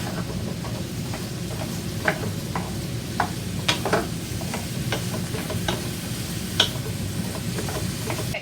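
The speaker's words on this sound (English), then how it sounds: "stir it all together to get it like coated in the honey and the olive oil" Chopped carrots coated in honey and olive oil sizzle steadily in a pan while a utensil stirs them, giving scattered scraping clicks over the constant frying hiss, with no one talking.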